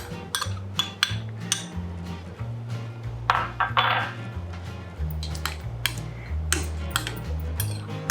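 A utensil whisks egg and chopped onion batter in a bowl, making repeated close clinks and scraping taps in an uneven rhythm, with a low hum beneath.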